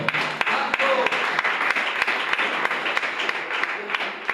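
A church congregation claps in praise, a steady wash of applause with distinct sharp hand claps near the front, continuous and fairly loud throughout.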